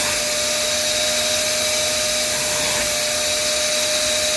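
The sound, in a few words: UWANT portable carpet cleaner vacuuming up water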